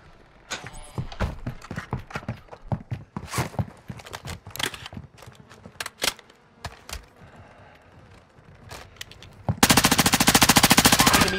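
Gunfire from Call of Duty Warzone: a long string of sharp individual shots with uneven spacing, then a loud sustained burst of rapid automatic fire near the end, with no voices.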